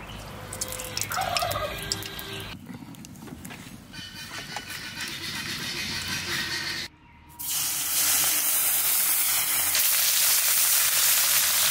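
Khoira pond fish, salted and rubbed with turmeric, sizzles in hot oil in a pan: a steady, close, broadband hiss with a brief drop near the middle before it surges back louder.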